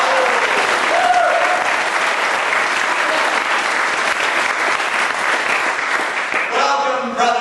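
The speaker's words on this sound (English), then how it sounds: "Give yourself a round of applause." Audience at a gathering in Skagway, Alaska, clapping for themselves in one steady, dense burst of applause that fills the room and tapers slightly at the end.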